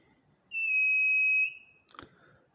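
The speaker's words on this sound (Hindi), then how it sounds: "जैसे ही हम इसके पास में कोई मेटल लेकर आते हैं, यहाँ पर बजर का साउंड स्टार्ट हो जाता है" A homemade low-cost metal detector circuit's buzzer sounds one steady, clear tone for about a second and then stops. A short clatter follows in a quiet room.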